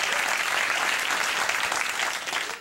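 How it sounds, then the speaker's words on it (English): A late-night show's studio audience claps continuously, a dense, even wash of applause. "And 15 just clapped."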